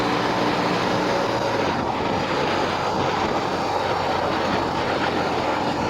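A BMW R18 cruiser motorcycle ridden on a highway in fourth gear, a constant loud roar of engine, wind and road noise with no pauses.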